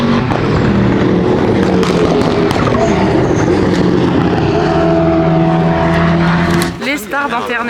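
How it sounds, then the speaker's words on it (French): GT4 race cars at the Nogaro circuit roar past in a loud, dense wash of engine noise, layered drones rising and falling as cars pass, with a voice speaking over the din. "Donc là, en ce moment, il y a la GT4 qui court"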